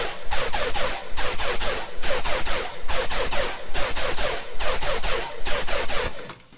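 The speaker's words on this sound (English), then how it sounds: "We're going to call it Tearout hypersaws just for the sake of this video," Dense, bright tearout hypersaw synth patch built in Serum on E2, hammering out loud, rhythmic stabs in repeating bursts with short gaps between them, then cutting off at the end.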